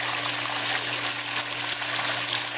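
Cloudy pool backwash water rushes steadily out of a hose outdoors, a constant broadband gushing flow with a low steady hum beneath and no voices.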